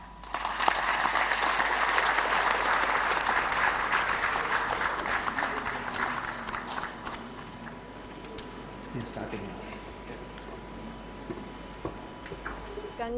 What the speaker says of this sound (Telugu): సోమనాథ్ గారు మాట్లాడినంతసేపు మా స్టూడియోలో మొత్తం చప్పట్లతో మారిమోగే,